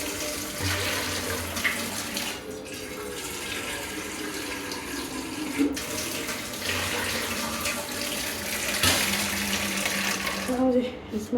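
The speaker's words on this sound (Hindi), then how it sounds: "इसमें पानी भी डाल दिया है" Tap water pours into a cooking pot, a steady rushing splash that shifts in pitch as the pot fills, running close by for most of the clip with a few brief clanks and pauses.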